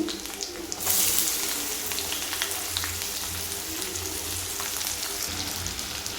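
Fresh ginger and onion hitting a hot pan with cumin, a steady close sizzle and crackle that swells after the first second and holds evenly.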